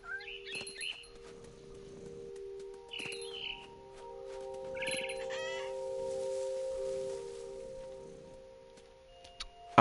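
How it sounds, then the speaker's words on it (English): Bird chirps from a barn swallow in the video game What Remains of Edith Finch, short bright calls in a few bursts near the start and middle, over a steady ambient hum and soft rustling. "Then I heard chirping outside my window."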